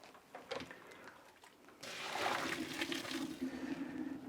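Starchy pasta water is scooped from a pot in a home kitchen for a sauce: faint trickling and splashing at first, then a louder steady pour and slosh near the end.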